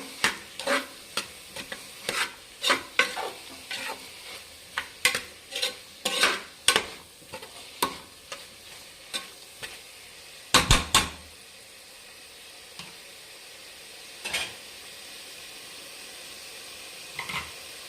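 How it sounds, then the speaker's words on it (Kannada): Tomato frying in a pan for menthya bath, a soft continuous sizzle under frequent sharp knocks and scrapes of a spoon against the pan, busy for the first ten seconds and then thinning to a few scattered taps. "ಇವಾಗ ಟೊಮೆಟೊ, ಇದು ಸ್ವಲ್ಪ ಚೆನ್ನಾಗಿ ಫ್ರೈ ಮಾಡಬೇಕು."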